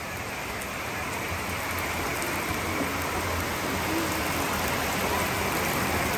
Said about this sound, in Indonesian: Ternyata hujan, semua ngumpul di sini.